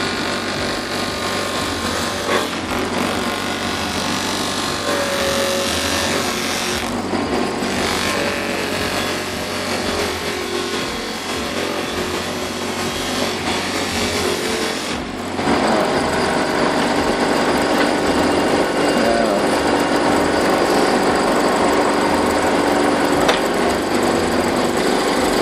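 Bench grinder, temporarily clamped down and fitted with a homemade polishing wheel, runs with a steady loud whine, growing fuller and louder about two-thirds through as the wheel works against material.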